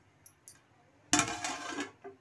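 A single clattering metallic clank as a lid settles onto a pot of drumstick curry, preceded by a couple of faint light taps.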